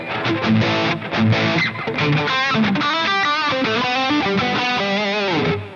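An electric guitar runs through a JCM800 amp plugin at higher gain, playing distorted, sustained chords and melodic notes with rich harmonics, loud and continuous throughout.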